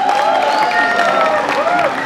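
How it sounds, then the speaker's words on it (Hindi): An audience at an Indian book launch for a Dara Singh comic applauds and cheers to welcome a guest, a continuous, loud roar of clapping with music ringing through it. "आप भी वही तालियों से इन्हें नवाजें, प्यार दें अपना।"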